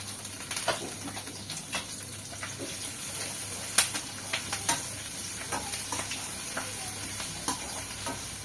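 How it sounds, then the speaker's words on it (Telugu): Garlic, dried red chillies and curry leaves sizzle in a pan with a continuous close crackle, broken by sharp pops and scraping stirs. "ఇగో కొంచెం వెల్లుల్లి ఎండుమిరపకాయలు కరివేపాకు అయితే వేసేసుకుంటున్నా"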